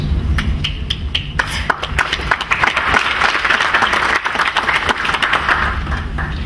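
Applause from an audience at a diamond industry conference in Zimbabwe. Loud, sustained clapping with many distinct sharp hand claps rolls evenly for several seconds, dense and close.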